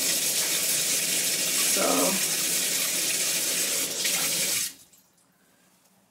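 A bathroom tap runs strongly while the front of someone's hair is wetted, giving a loud close rush of water with brief splashes. It cuts off abruptly near the end and leaves near silence. One short spoken word is heard.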